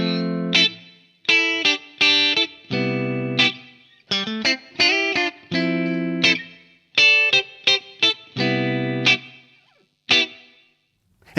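Soul guitar riff with low chord notes answered by quick stabs on the upper strings; the chorused, slightly driven chord hits come in choppy rhythmic bursts with short gaps, played solo.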